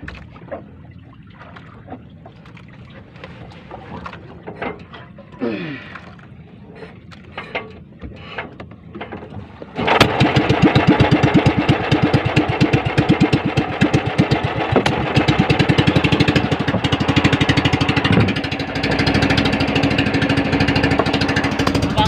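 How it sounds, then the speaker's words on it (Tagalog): A fishing banca's misfiring engine sputters at first, then roars into steady, loud running, with a rapid chugging pulse that persists close by. "Bibuhayin ko lang ang makina namin."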